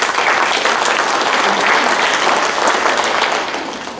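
A breakfast meeting audience applauds steadily for about four seconds, dense and fairly loud clapping that fades slightly at the end.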